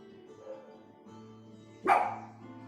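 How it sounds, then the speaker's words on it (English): A single sharp dog bark bursts out close by, preceded by a faint whimpering or low vocal sound against a quiet background. "It's just a dog barking."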